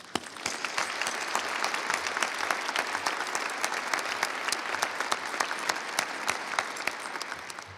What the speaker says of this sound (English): Please, a round of applause for parents.